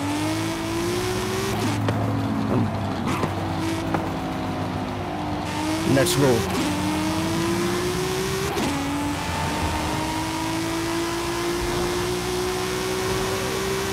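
A 2019 BMW Z4 Roadster in Forza Horizon accelerates through the gears, a steady engine drone rising in pitch with brief dips at each shift, running continuously under a voice speaking over it.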